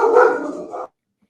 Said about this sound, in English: You got the dogs barking.